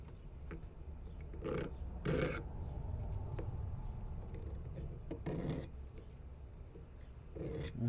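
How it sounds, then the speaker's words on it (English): A small tool deburrs the inside of a handmade metal ring, making faint, brief scraping bursts spaced irregularly over a low steady background hum, close by and without speech. "I still have to deburr this a little bit. Just a little bit more in there."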